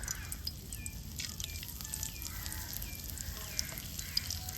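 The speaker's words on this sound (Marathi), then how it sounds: "आता हे शॅलो फ्रायला ठेवलेले आहेत बोंबील" Bombil (Bombay duck) fish coated in rava, turmeric, masala and salt shallow frying in hot oil over a wood-fired chulha, giving a steady soft sizzle with faint crackles and small pops throughout, no talking.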